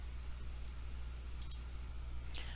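A computer mouse gives a couple of quick, faint clicks, a pair and then a single, over a low steady room hum.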